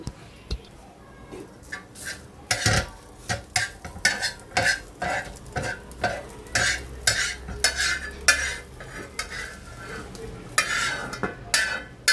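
An egg goes onto a pan beside bread for a sandwich, with utensils clattering and scraping in repeated sharp bursts over a soft, steady sizzle, fairly close and busy throughout.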